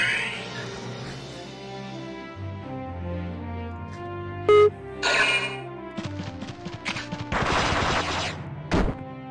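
Enemy machine gun fire in the video game Valkyria Chronicles 2: music plays throughout, with sharp bursts of gunfire and impacts in the second half, the loudest near the middle and at the end.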